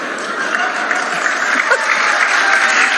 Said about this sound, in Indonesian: Nggak usah tepuk tangan, nggak penting